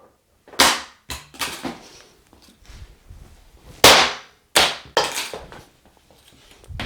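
Soft tip darts with Target K Flex points dropped onto a floor, a series of sharp, close, separate clacks and rattles at uneven intervals, each fading quickly, with no talking.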